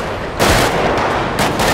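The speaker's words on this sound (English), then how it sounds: "I'm just getting shot at from behind" Rapid bursts of gunfire in the GTA 5 video game, loud and close, with two sharp volleys of shots in quick succession.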